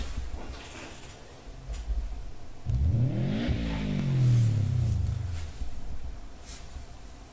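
In a Sega Dreamcast racing video game set to automatic transmission and drift, a car accelerates with a single rising engine roar that shifts pitch as it climbs, then fades, over quiet background game sound.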